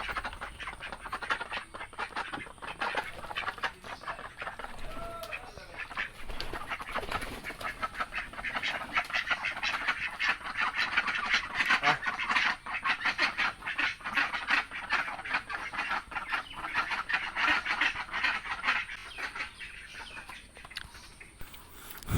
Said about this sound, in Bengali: এখানে হচ্ছে আমাদের হাঁস থাকে, 5টি হাঁস আছে